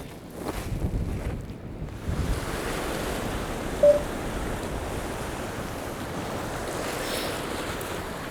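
Winter waves roll and wash against a rocky shore, a continuous roar of surf with wind buffeting the microphone and one brief sharp knock partway through.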